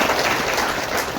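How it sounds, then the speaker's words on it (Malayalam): A seminar audience at a direct-selling business meeting claps in a brief, dense burst of applause that stays steady and close throughout. "അവർക്ക് വേണ്ടി നല്ലൊരു കൈയടി ആവാം"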